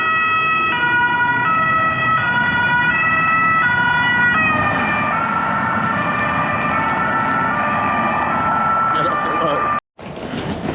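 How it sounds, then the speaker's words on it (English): A two-tone ambulance siren wails steadily over busy street noise and traffic rumble in Rome, fairly loud and close, with a brief cut near the end. "This is the sound of Rome."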